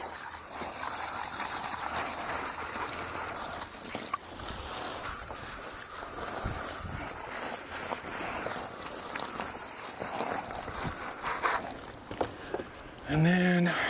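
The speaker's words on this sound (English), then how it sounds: "let's rinse them off real quick" Running water rinses freshly processed rabbit meat outdoors, a steady broad gush that holds throughout, with a person talking over it.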